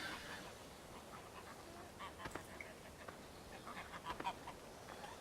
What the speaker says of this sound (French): Il y a des nouveaux bruits. C'est les oies.